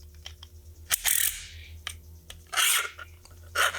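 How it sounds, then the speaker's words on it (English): Rounds being plunged into an MP5 magazine with a Bullet Buddy speed loader give sharp metallic clicks and three longer rasping, scraping bursts, close and fairly loud, with no talk. "And plunge bullets into magazine."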